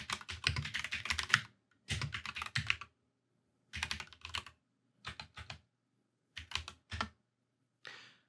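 Rapid bursts of typing on a computer keyboard, clattering keystrokes in several short runs separated by pauses.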